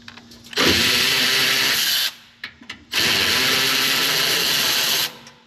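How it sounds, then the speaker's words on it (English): Power tool, likely an impact driver or drill, backing out the two 10 mm bolts holding the sway bar on a slammed GMC Sierra, two loud sustained whirring bursts of about one and a half and two seconds, close up, with a short clattering pause between them. "Last thing we need to do is we need to take the two 10 millimeters out"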